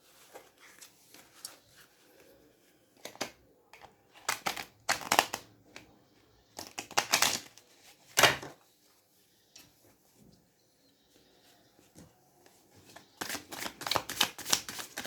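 Tarot card deck being shuffled by hand, close and fairly quiet, with irregular bursts of riffling and slapping cards separated by brief pauses and a longer flurry at the end.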